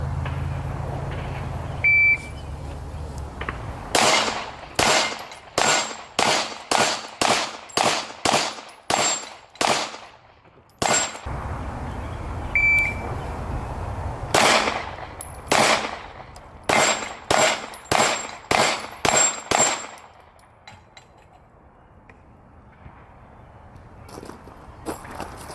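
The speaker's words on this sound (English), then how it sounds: "Let's shoot some more, man." A Springfield Armory Hellcat Pro pistol fires at a shooting range in two rapid strings of about ten sharp, loud shots each, separated by a short pause, with quieter handling noise between the strings.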